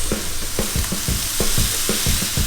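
Carrots, peas, bean shoots and soya sauce sizzling and stirred in a hot pan for vegetarian noodles, a dense constant hiss broken by regular knocking scrapes of a utensil, close and loud.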